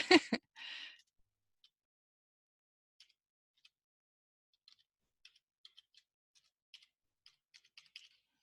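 A computer keyboard is tapped sparsely while a password is entered, with single faint keystrokes spread out and a few quick bursts, following a couple of louder clicks and a brief rustle at the start.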